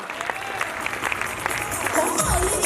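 A crowd at a twenty-second anniversary seminar in Karnal claps enthusiastically in a dense, steady burst, with voices mixed into the applause throughout.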